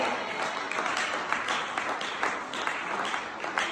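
A church congregation applauding the Lord, steady dense clapping and cheering filling the whole stretch at moderate loudness, with no clear voice on top.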